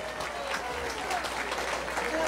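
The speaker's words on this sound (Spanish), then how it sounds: "Un aplauso para ella." Crowd applauds a festival queen candidate at a Maria Inmaculada celebration, a soft, distant wash of clapping that stays level, with voices murmuring underneath.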